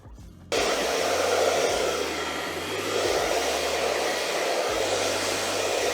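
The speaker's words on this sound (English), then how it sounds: "after we blow dry it" Hair dryer blowing steadily and close while a haircut is styled, a continuous loud airy whoosh that switches on abruptly after a brief quiet start and holds with slight shifts in pitch.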